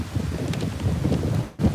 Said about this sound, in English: And sorry for the crazy wind.